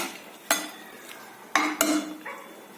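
A utensil stirring dal in a cooking pot, giving a few sharp metallic clinks and knocks at irregular intervals over a soft background hiss.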